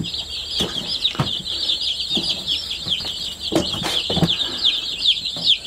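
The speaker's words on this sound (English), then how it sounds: "they have a good breed of Cornish cross meat birds" Dense, continuous high peeping from a crowd of Cornish cross meat bird chicks in a brooder, a steady chorus with occasional louder chirps and soft thumps, close and without talking.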